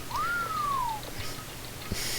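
A character whistles in Danganronpa 2: Goodbye Despair, one clean whistle that swoops up and then glides slowly down over about a second, followed by soft background noise and a faint knock.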